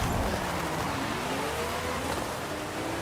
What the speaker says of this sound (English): So I'm gonna just fully gas it here and then see what we do.